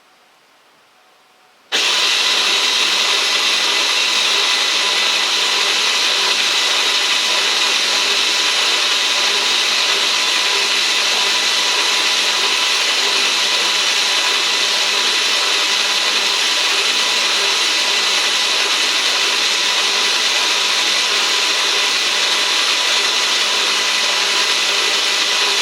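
A modified Power Wheels ride-on motor running in high gear starts abruptly after a short quiet moment, then holds a loud, steady, even whine close by for the rest of the time.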